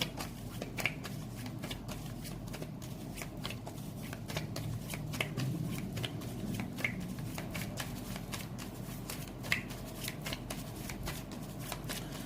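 Tarot cards are shuffled steadily at close range, a continuous riffling rustle made of rapid soft card slaps, with a few sharper flicks standing out along the way.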